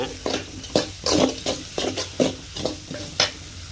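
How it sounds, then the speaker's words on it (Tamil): Onions sauté with a pinch of salt in a pan for lemon rice, stirred in quick repeated strokes that scrape and clatter over a soft continuous sizzle. "வெங்காயம் வணங்குறதுக்காக கொஞ்சம் உப்பு போட்டுக்கிறோம்"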